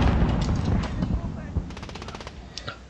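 Rapid automatic gunfire in the jungle-warfare shooter Modern Warfare comes as a steady stream of close, loud shots. A quick rattling run of sharp cracks follows near the end.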